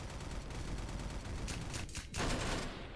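Rapid bursts of VSS rifle fire in a Roblox shooter, loud and close, in dense overlapping volleys with a brief pause near the end.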